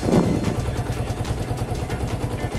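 A fuel-injected 2008 Yamaha Vixion motorcycle engine runs at mid-high RPM around 4000 to 5000, with a rough, rapid ticking knock under a steady close mechanical drone.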